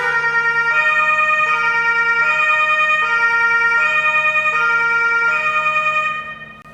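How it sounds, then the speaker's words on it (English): A Mercedes S680 Guard armored car plays its siren, a loud steady electronic wail that alternates between two tones in a repeating cycle. It sounds close and continuous, then cuts off abruptly at the end, with no voices. "it will also play the siren sound."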